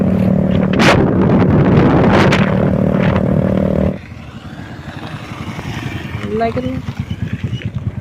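A Royal Enfield Bullet motorcycle engine roars loudly, then drops to a rough idle, with sharp popping bursts of exhaust backfire crackling through.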